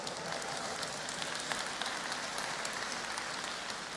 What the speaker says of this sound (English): so give Rick a round of applause